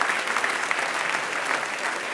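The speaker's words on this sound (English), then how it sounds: "let's give all 3 of these people a nice round of applause" A TEDx crowd in Oxford gives a sustained round of applause for three volunteers from a mental math show, a dense wash of clapping at steady moderate loudness with no voices on top.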